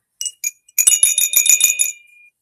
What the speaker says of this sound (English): little bell.